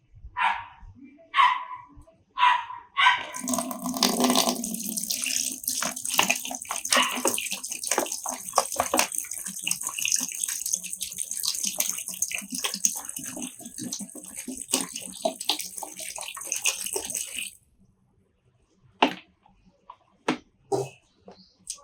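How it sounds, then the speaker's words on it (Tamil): RO water pours into a container in a continuous close splashing gush lasting about fourteen seconds, preceded and followed by brief knocks and handling sounds. "ஆர்ஓ வாட்டர் தான் யூஸ் பண்ணணும். நார்மல் வாட்டர்லாம் எடுத்துடாதீங்க. ஆர்ஓ வாட்டர் தான் எடுத்துக்கணும்."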